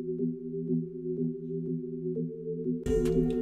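A dry pluck synth melody from an FL Studio beat, played without effects, repeats short low-register notes in a steady pattern, then a sudden burst of fuller, brighter noise enters near the end.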